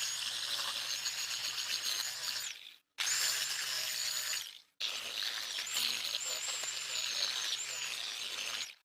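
High whining grinder sanding a rusty knife blade in three long passes, each ending abruptly in a brief pause, steady and fairly close with no talking.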